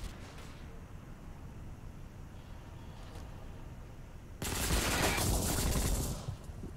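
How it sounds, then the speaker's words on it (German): Gunfire in the game Ghost Recon Online, distant scattered shots at first, then a loud, close burst of sustained rapid fire. "Also hier links wird schon auf mich geschossen."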